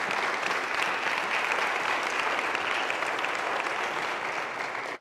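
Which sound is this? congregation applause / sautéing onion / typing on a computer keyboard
congregation applause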